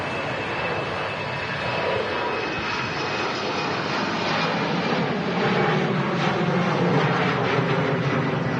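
Embraer airliner at Manchester Airport, a loud continuous aircraft engine roar that holds steady and swells slightly toward the end, with no voices.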